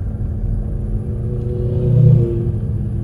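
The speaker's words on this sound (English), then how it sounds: "Look at all them race cars coming up the hill." Low engine rumble of race cars climbing a hill during a race, a steady drone that swells slightly midway as a vehicle pulls closer, then eases.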